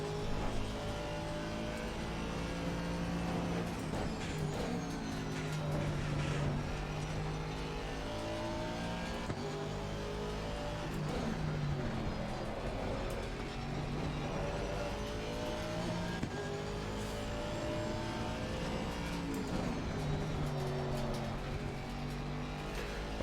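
Race car lapping a cold track in the sim racing game Assetto Corsa Competizione, engine droning steadily with rising and falling pitch through gear changes, moderately quiet, with no talking.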